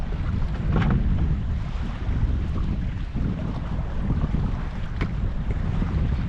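Strong wind buffets the microphone in a steady roar on a small boat drifting while fishing on open water, with waves and water noise underneath; a couple of brief knocks stand out, and no one speaks.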